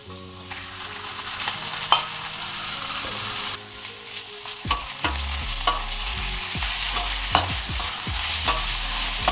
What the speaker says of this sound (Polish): Olej mam już chyba wystarczająco rozgrzany. Skręciłem troszkę gaz na takim małym płomieniu, nie? I smażę.